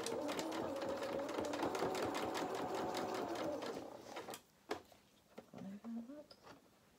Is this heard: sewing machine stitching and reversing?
yes